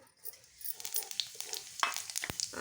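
Cumin seeds dropped into hot oil in a pan crackle and spit in quick, faint pops and hisses, close by and quiet, with no talking.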